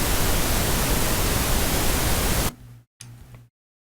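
Noise oscillator of the Tone2 Icarus software synthesizer, giving a loud, steady broadband hiss for about two and a half seconds, then fading, cutting out, briefly returning and stopping.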